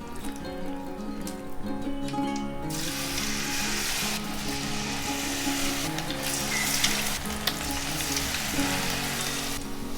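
Cauliflower pieces for Gobi Manchurian deep-fry in hot oil, a dense continuous sizzle and crackle that swells louder after a few seconds as more pieces go in, with no voices.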